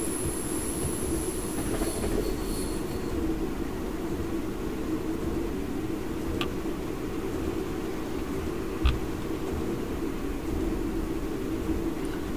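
A train rumbles along continuously in a railway simulator game, a steady low roar of wheels on track with faint squeals and a few brief clanks.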